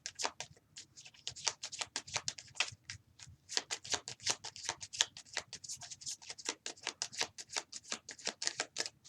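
Tarot cards riffled and shuffled in a steady rapid flurry of crisp flicks and taps, close and continuous throughout with no voices.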